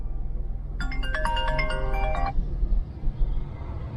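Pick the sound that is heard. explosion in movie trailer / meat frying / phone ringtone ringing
phone ringtone ringing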